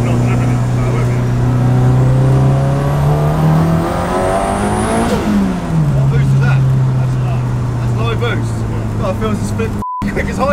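A 540 hp rear-wheel-drive Honda Civic engine with anti-lag revs loudly inside the car, pitch rising then dropping sharply and settling, with popping and crackling, under occasional talk.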